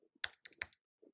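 Fingers typing on a computer keyboard, about five crisp close key clicks in a quick uneven run, with faint low thumps around them in an otherwise quiet room.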